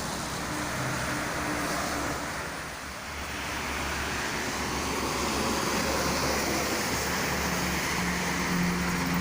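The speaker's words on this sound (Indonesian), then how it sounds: "Dan hujannya mulai deras ya teman-teman, harap berhati-hati." Heavy rain pours steadily on the Jakarta-Cikampek toll road, a dense, continuous broadband wash with passing traffic rumbling underneath, loud and unbroken throughout.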